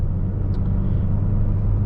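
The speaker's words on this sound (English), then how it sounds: "The engine's pretty quiet in here." A 2019 Ford Escape SEL's engine hums while driving, heard from inside the cabin as a steady, low, subdued rumble with no voices.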